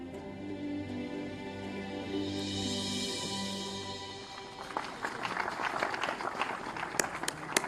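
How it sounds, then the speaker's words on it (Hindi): Crowd applause at a Partition memorial event in Lucknow breaks out after a stretch of sustained musical tones, turning into dense, crackling clapping that keeps going to the end at moderate loudness. "जोरदार तालियों से स्वागत।"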